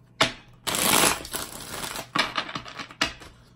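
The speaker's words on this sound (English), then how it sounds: "let's get 5 shuffles" A deck of cards is shuffled by hand in several separate bursts of riffling and snapping, close and clear, with short pauses between them.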